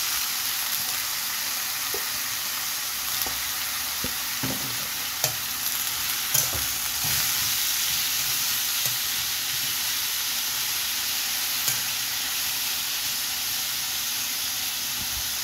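Onion, ginger and garlic with vegetables stir-frying in a pan make a steady, bright hiss of frying oil with occasional soft taps and scrapes of stirring, close and even throughout.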